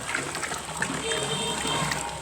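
Water pouring into a pot of potato for homemade dish soap, a continuous close splashing and trickling wash that stays even in level for the whole stretch.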